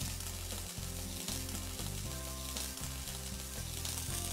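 Chicken skin sizzles skin-side down against the bottom of a pot while chicken cooks for arroz con pollo, a steady close, loud frying crackle that runs unbroken with no talking.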